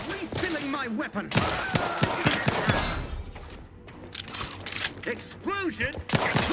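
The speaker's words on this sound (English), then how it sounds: "Explosion." Sharp cracks of gunfire and a booming blast mixed with mechanical clatter and brief shouting voices, loud and chaotic, in the video game The Outer Worlds 2.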